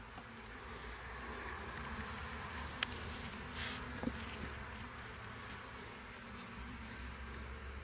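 Honey bees swarm around an open hive under inspection, a dense, steady buzz of many insects close by, continuous throughout with a couple of brief clicks or knocks and no talking.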